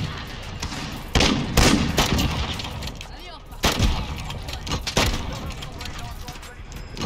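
An R700 sniper rifle fires in a PC shooter game as sharp, loud cracks that repeat every second or so over a lobby of gunfire, with a player talking throughout.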